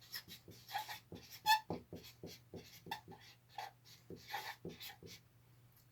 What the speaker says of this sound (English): I'm going to write down these numbers here